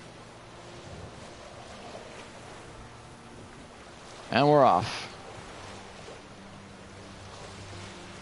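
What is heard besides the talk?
boat sailing on water in video game The Witcher 3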